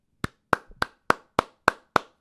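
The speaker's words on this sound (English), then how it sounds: "give a big round of applause to everybody involved with crafting this Maryland basketball schedule so far" A single person claps seven times in a steady, even rhythm, each clap sharp, close and loud with no crowd around it.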